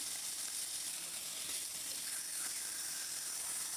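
A large fish head fries in oil in a pan as it is turned over and over. A continuous, even sizzle hisses up close, without distinct clatter from the turning.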